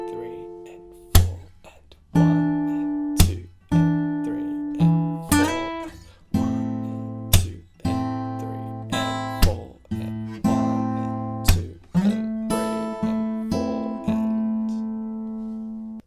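Acoustic guitar playing the intro of a pop song, loud and close, with plucked notes and chords struck one after another in an even rhythm, each ringing and fading before the next attack.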